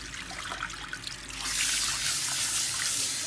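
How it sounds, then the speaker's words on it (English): Running water rinsing keratin treatment product out of a client's hair at a salon sink, a soft trickle that swells into a steady louder spray partway through. "Now I'm rinsing because I just want to make sure that the product is completely out of her hair."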